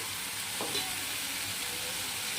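Masala seasoned with salt, turmeric and chili sizzles steadily in a pan for a mushroom curry, a soft continuous frying hiss with a brief stir or clink partway through.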